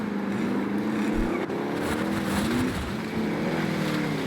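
A vehicle engine in Warzone drones loudly and continuously, its pitch rising and falling as it drives up, with wind-like rushing noise.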